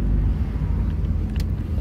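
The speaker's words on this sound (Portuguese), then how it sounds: "A gente vai estacionar o carro aqui" A car's engine rumbles low and steady from inside the cabin as it slows to park beside an avenue, a close, muffled drone with faint traffic in the background.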